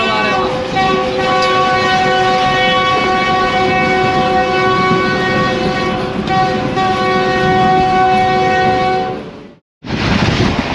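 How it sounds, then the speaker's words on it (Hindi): Allama Iqbal Express train cruising at high speed after leaving Karachi, a loud steady roar of wheels and rumble with strong tonal hums throughout, cutting briefly to near silence before the noise resumes. "कराची से निकलने के बाद अब दावेजी रेलवे स्टेशन से बहुत ही ज़बरदस्त स्पीड में क्रूज़ कर रहे हैं।"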